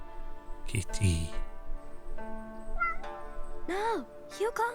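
A cat meows in a game, The Spirit of the Samurai: several clear, close, wavering meows spaced across a few seconds, mixed with speech and quiet ambient game sound.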